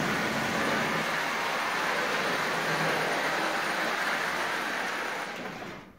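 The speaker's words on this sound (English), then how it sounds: "As you see, it can pull it. That is heavy for that little plastic locomotive." A Marx 112 plastic toy switcher locomotive pulls a heavy load of cars, giving a steady, even rolling whir and rattle close by that fades slightly at the end, with no talking.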